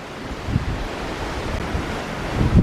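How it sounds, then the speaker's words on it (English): Ocean waves and wind heard from the deck of the Celebrity Equinox cruise ship at sea, a continuous loud rushing with wind buffeting the microphone and low surges of surf swelling at intervals. "We are definitely out to sea"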